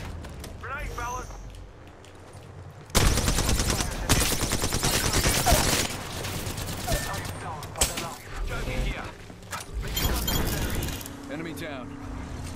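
Enemy gunfire in a ranked online shooter game: dense rapid bursts of automatic fire start abruptly and recur in loud clusters, with a player talking over the shooting.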